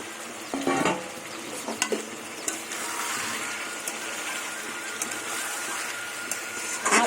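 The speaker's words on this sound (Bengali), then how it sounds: "হালকাভাবে খুঁটি দিয়ে নাড়া নাড়বেন" A utensil stirs hilsa fish curry with fried potatoes in a pan over a lowered gas flame, giving a steady soft sizzle with scraping knocks near the start and the end. No one speaks.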